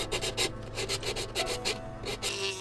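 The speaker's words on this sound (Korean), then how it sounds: "인두기로 면을 녹이고 사포로 다듬어줍니다." Sandpaper rubs back and forth over a plastic figure made with a 3D pen, a close, steady series of rasping strokes in an even rhythm with no talking.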